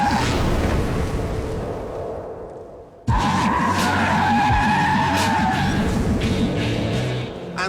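Toyota GT86 on skinny low-grip tyres sliding its tail out at about 30 mph, a loud tyre squeal and skid over engine drone, easing briefly before a sharp renewed screech that holds steady.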